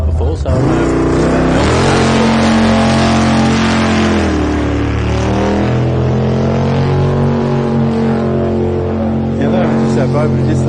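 A V8 superboat's engine roars close and loud as it takes off from the line at a championship race, a strained, rising drone that holds steady without a break.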